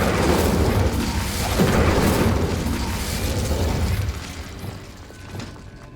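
A fiery blast from the Incendio spell in Hogwarts Legacy: a deep booming burst with crackling rumble that swells, then fades over several seconds, loud and close with no talking.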